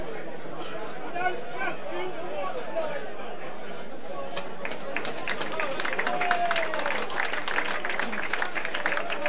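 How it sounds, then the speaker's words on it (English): A football crowd at a 1993 Wycombe Wanderers match cheers and chatters from off camera, a busy murmur that rises into clapping and applause in the second half, with faint voices throughout. "The cheers, incidentally, you might have heard off camera"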